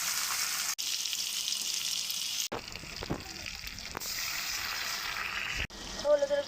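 Sweet pumpkin and shrimp fry in a pan, giving a steady close sizzle broken by a few sharp cuts, with a watery gush near the end.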